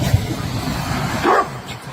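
A Boerboel dog barks at a hippo, one short bark standing out late over steady outdoor noise, with no talking.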